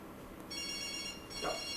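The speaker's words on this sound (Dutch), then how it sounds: "En Marlon zijn telefoon zal dus overgaan" A mobile phone rings from an incoming call routed through an online phone system, with a faint electronic ringtone heard at low volume and a brief louder tone near the end.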